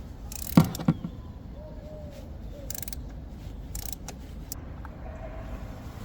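A socket ratchet working a spark plug loose on a BMW E46 engine, a couple of sharp metallic clicks early on, then quieter intermittent ratcheting and scraping close by in an otherwise quiet garage.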